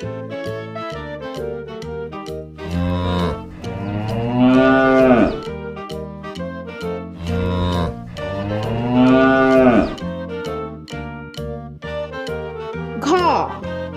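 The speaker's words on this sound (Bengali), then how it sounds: "গয়ে গরু বাছুর দাঁড়িয়ে আছে।" A cow and calf moo in a farm setting, with several long, drawn-out moos that rise and fall, separated by quieter gaps and a short higher call at the end.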